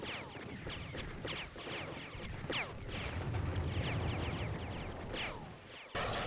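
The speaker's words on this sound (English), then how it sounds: "Again, some mine explosions in that elevator." Mine explosions go off in an elevator in the video game Infantry, a rapid, chaotic string of bursts and crashes over a rumbling low-end bed, fairly loud and without talk.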